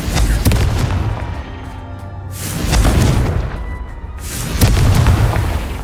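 The Confringo spell in Hogwarts Legacy detonates as heavy, booming blasts that swell and fade in about three waves, loud and close with a dense rumbling tail.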